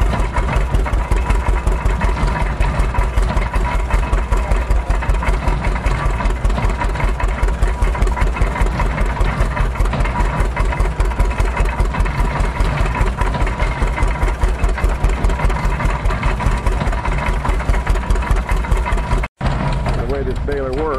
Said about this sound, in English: But it's got the baler working.